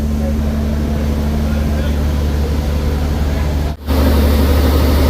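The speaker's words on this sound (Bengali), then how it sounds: "লঞ্চটিতে রয়েছে উইচাই ব্র্যান্ডের দুইটি চায়না ইঞ্জিন যার হর্স পাওয়ার প্রায় আটশো পঞ্চাশ" Passenger launch powered by two Weichai Chinese engines of about 850 horsepower and eight cylinders, a loud steady droning engine hum running throughout, with a brief dip partway through before resuming.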